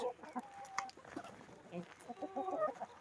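A Bresse hen clucks in a backyard coop, giving soft, irregular short clucks and murmurs at low level, with other birds' faint calls mixed in.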